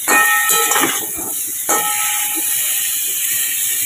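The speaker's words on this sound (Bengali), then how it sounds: "তাহলে আলুটা একটু ভাজা ভাজা করে নিই নুন হলুদ দিয়ে" Potatoes fry with salt and turmeric in a pan for a soybean dish, giving a loud, steady sizzling hiss throughout with a brief burst near the start.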